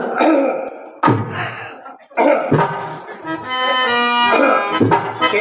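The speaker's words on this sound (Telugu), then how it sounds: "దగ్గు" Several harsh coughs burst out at intervals, with a sustained vocal tone filling the gap between them.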